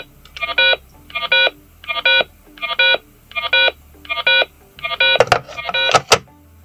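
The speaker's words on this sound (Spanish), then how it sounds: "el teléfono va a emitir un tono para que no se pueda hacer la llamada" A VZComm 500-003 single-line telephone sounds its privacy tone after another extension on the same line is lifted: eight evenly spaced, buzzy electronic beeps in a steady rhythm, then a few sharp handset clicks at the end.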